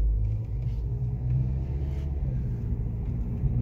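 During a driving lesson, a car drives straight ahead, its cabin filled with a steady low engine and road rumble, close and even throughout.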